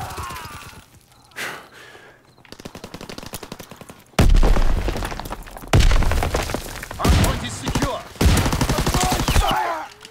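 Shotgun blasts in the Call of Duty WWII video game, several loud booming shots in quick irregular bursts mixed with other battle noise in the second half, after a quieter stretch with faint game sounds.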